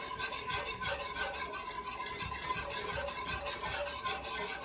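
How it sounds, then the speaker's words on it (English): A spoon steadily stirs chicken liver gravy in a pan to work out lumps, making soft, rhythmic scraping and swishing strokes, close and fairly quiet, with no talk. "You want to keep stirring and stirring and stirring."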